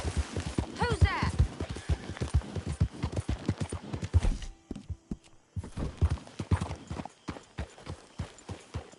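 A horse walks through town, its hooves clip-clopping in a close, uneven rhythm on a hard surface. The steps pause briefly midway, then resume, and a short whinny-like call rises near the start.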